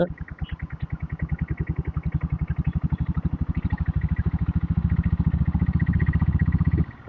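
A diesel Royal Enfield Bullet motorcycle thumps along on a night ride, its single-cylinder engine beating in a rapid, even pulse close by before cutting off abruptly near the end.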